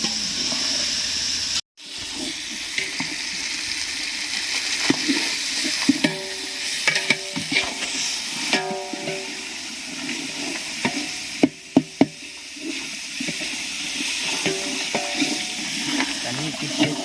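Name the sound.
masala frying and being stirred for chicken biryani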